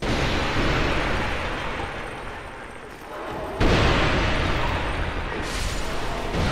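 An explosion in Dark Souls 2 (Scholar of the First Sin, Ascended mod) gives a dense, rumbling roar that swells suddenly into a louder burst partway through, then keeps rolling steadily to the end.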